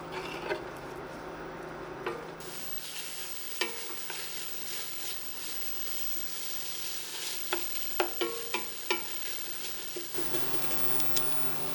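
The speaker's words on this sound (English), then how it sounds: "We're going to stir these over a medium heat for about 5 to 6 minutes, or until the onions and jalapenos are tender." Onions and jalapenos frying over medium heat in a pot, a steady sizzle throughout with a spoon stirring and scraping in irregular clicks and knocks that cluster toward the end.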